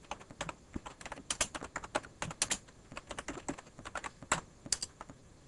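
Rapid, uneven typing on a computer keyboard while writing Visual Basic 6.0 code, a steady run of close, crisp key clicks with short pauses and bursts, with no voices.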